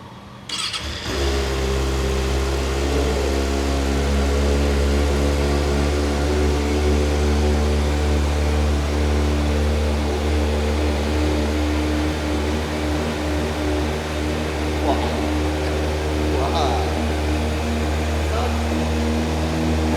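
A Kawasaki ZX-6R sport motorcycle cranks and catches after a brief whir, then settles into a loud, close, steady idle with occasional small blips of throttle, while people talk softly nearby.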